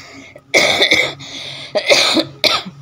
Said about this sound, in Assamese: বহুত কাহ এটা আহি আছে কিবা শুকান কাহ